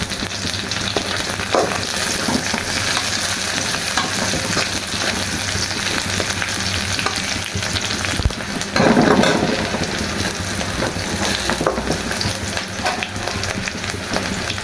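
Green chilies frying in hot oil for khichuri, a loud, continuous close sizzle with a brief surge of crackling partway through and faint stirring scrapes.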